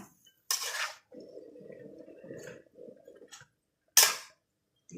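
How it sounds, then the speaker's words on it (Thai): A utensil scrapes and clinks against a pan while food is stir-fried, with two sharp metallic knocks and a stretch of rustling stirring between them, close and clear. "ผัดผัดไปเลยนะคะ ผัดไปอีกนะคะให้ได้รสชาตินะคะ"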